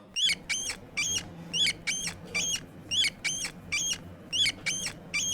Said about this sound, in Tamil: இதுதான் எலி மாதிரி கீ கீன்னு சத்தம் போட்டுட்டு இருந்துச்சா